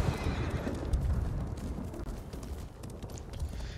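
A horse whinnies up close while hooves clop and thud against rough ground, all within a busy game-like soundscape in Ghost of Tsushima.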